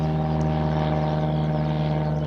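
An old wartime bomber drones steadily overhead on a countryside walk between Teynham and Faversham, a constant loud propeller hum with layered engine tones that holds throughout, with no speech.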